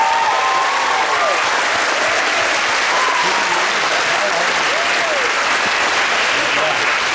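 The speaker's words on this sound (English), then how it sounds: "Let's give her a round of applause." Sustained audience applause at a middle school band winter concert, steady and loud for several seconds with some voices and whistles mixed in from the crowd.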